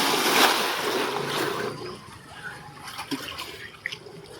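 Water splashing and sloshing as someone swims in a village well, a louder splash near the start, then softer lapping with small splashes, open outdoor ambience.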